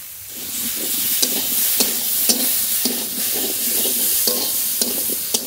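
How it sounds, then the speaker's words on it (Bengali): Potato and bitter gourd sautéing with cumin paste and slit green chillies in a pan, with a steady sizzle and regular stirring scrapes about every half second, close and alone. "হালকা করে একটু কষিয়ে নেব।"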